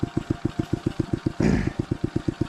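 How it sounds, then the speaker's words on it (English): A cheap Temu dirt bike engine idles close by with a steady, fast thumping putter of even pulses, broken briefly by a louder whooshing burst in the middle before the regular beat resumes. "it's idling just fine"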